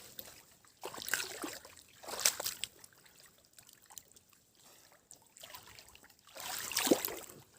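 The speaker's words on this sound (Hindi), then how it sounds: "मैंने वो तो पानी फेंक रहा है मेरा अंकल जी" Water splashing and sloshing as it is thrown out of a drying fish pond, arriving in several uneven bursts with quieter trickling gaps between them, fairly close.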